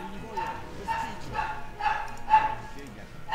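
A dog barks in a video game on a cow-island map, several yappy woofs repeating in a steady rhythm at moderate loudness, with someone talking over them.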